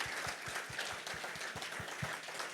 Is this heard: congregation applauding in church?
yes